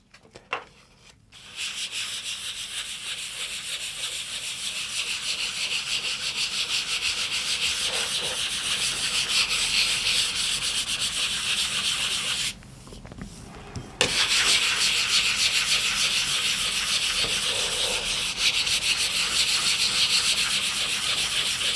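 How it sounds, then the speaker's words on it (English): Steady, close rasping of sandpaper lightly worked over a balsawood surface, continuous for long stretches with a brief pause partway through and a short stop near the start. "So I'm just going to lightly sand the surface of the wood to try to make it as uniform as possible"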